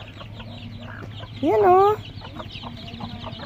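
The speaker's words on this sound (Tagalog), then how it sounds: "Ay, dami nilang manok" A chicken on a farm lets out a short rising squawk amid soft background clucks and farmyard murmur, with a brief voice speaking nearby.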